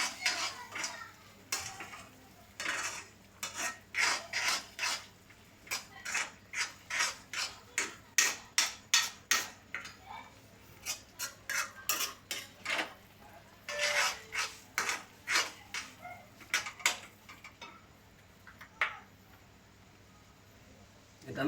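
Rhythmic clinks and scrapes of a spoon against a bowl while ground spices and chili masala are mixed into a mixture, fairly close, in bursts of steady strokes with short pauses.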